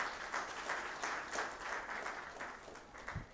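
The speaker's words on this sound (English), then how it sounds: "let's also put our hands together and give a round of applause to Dr. Mitch." Faint, distant applause from an audience in a hall for a youth challenge event in Uganda fills the space as a steady wash of scattered clapping.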